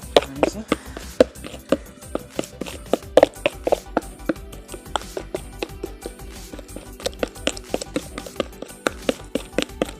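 A spoon mixing chicken tikka marinade in a bowl, giving quick, irregular clinks and taps against the side that keep a loose rhythm, close and crisp throughout.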